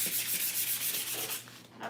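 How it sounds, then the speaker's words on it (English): Wood is hand sanded along the grain in preparation for staining, producing steady rhythmic rasping strokes, close and fairly quiet, with no one speaking. "But the sanding that I'm doing, I'm trying to make sure I'm going with the grain"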